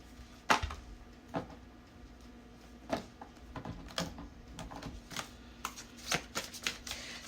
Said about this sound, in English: I'm going to pull this card out